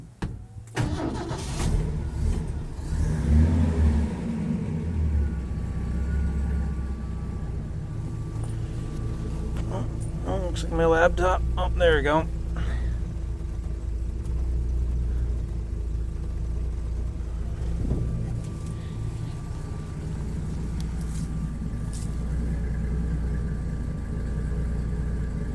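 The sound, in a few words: turbocharged Ford 300 engine starting and running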